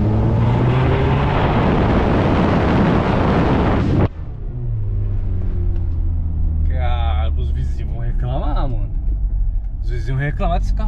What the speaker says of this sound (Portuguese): eu nunca andei num carro tão forte quanto esse aqui. Eu acho que dá pra ouvir o barulho